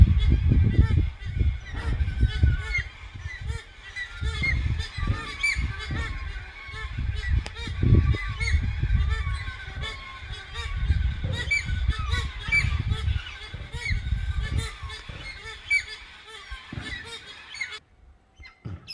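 Wild galah cockatoos in a tree feeding their chicks, giving a dense, continuous chorus of loud, harsh honking calls at close range for most of the clip, then falling quiet right at the end.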